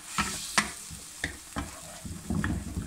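Masala gravy for okra, with cream added, gets stirred in a pan over medium heat: a spoon scrapes and taps the pan in repeated strokes over a soft continuous sizzle, close up and with no talking.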